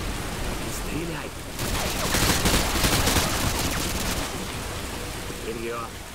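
Rapid bursts of automatic gunfire in Call of Duty: Modern Warfare 2, a dense crackling volley that swells in the middle and thins out, with a voice speaking briefly around it.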